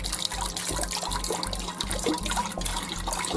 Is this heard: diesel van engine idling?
no